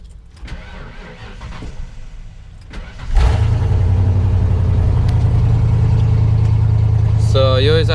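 A Ford Bronco's engine cranks and catches about three seconds in after some quiet cabin shuffling, then settles into a loud, steady idle that continues to the end.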